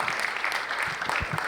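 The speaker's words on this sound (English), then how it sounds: "Can we have a huge round of applause for Sir, please?" Audience applause for a speaker at a conference, a dense wash of clapping held steady through the clip with a few low thumps underneath.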